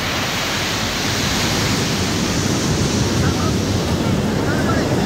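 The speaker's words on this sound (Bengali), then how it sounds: "আর সমুদ্রের ঢেউয়ের আওয়াজ তো তোমরা পাচ্ছই" Sea waves breaking on a clean, empty beach at Puri, a constant loud roar of surf blended with wind rumble on the microphone.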